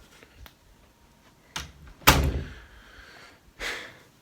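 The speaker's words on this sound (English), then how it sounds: "I have to shut my door so I can be louder." A room door is shut with a loud, close thunk after a couple of softer handling knocks, followed by a brief rattle as it settles.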